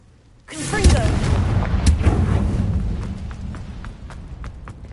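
A Confringo spell blast in the Hogwarts Legacy video game erupts as a sudden loud explosive burst with crackling debris, then a rumbling tail that slowly fades.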